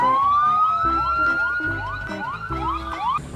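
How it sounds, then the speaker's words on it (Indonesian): A toy ambulance plays a loud electronic siren up close, a continuous wailing tone that sweeps up and down repeatedly over a pulsing mechanical hum. "ini mobil ambulan"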